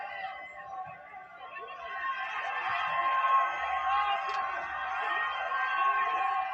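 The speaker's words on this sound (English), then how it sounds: "You hear the cheers?" Crowd cheering and whooping as an American flag is ripped down at a protest, a sustained roar of many voices swelling mid-clip and holding steady, heard from within the crowd.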